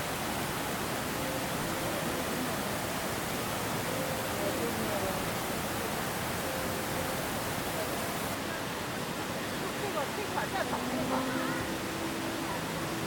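A small waterfall at Jiuzhaigou rushes in a steady, broad wash of falling water throughout, with faint bird calls and a quiet voice briefly audible beneath it.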